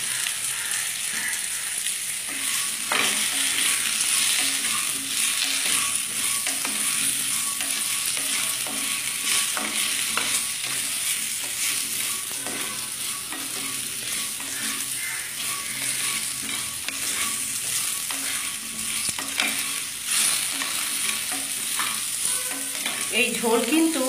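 Potatoes and pumpkin frying in oil for a light bottle gourd leaf curry, a dense continuous sizzle with stirring and scraping throughout, close and fairly loud.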